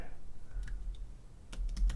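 Small computer keyboard typed on in a few scattered, soft clicks of keys, faint and close under a low steady room hum, with no talking.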